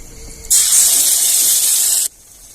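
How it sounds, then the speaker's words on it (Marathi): Ground masala hitting two spoons of hot oil in a heated kadhai, a sudden loud sizzling hiss that holds steady for about a second and a half, then cuts off abruptly. "तर आता आपण मसाला फोडणीला टाकून देऊया"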